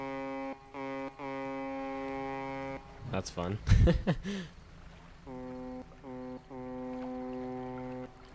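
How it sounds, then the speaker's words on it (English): In the fishing video game Dredge, a deep foghorn sounds in long, steady droning blasts that echo across the water. A voice speaks briefly between the blasts. "hear a foghorn echo."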